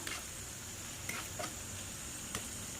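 Potato pasta in a pan with soy sauce, sugar and salt, stirred over heat: a faint, steady sizzle broken by a few light ticks and scrapes of a spoon against the pan.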